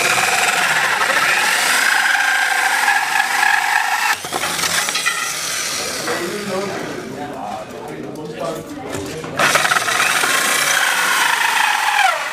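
A jigsaw cutting wood for a homemade dolly track, a loud buzzing rasp that runs steadily, drops into a rougher sputtering stretch mid-cut, then resumes at full strength.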